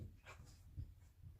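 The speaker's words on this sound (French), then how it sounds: "J'ai ma chienne qui fait du bruit derrière." A female dog whimpers and yips faintly in the background indoors, with short soft bursts of distant noise and no clear speech.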